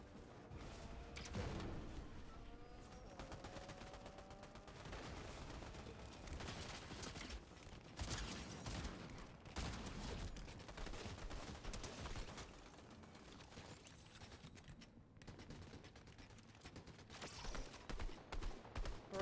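Rapid gunfire bursts from a Fortnite match, dense and continuous with game music and effects layered underneath, loud throughout with brief lulls between volleys.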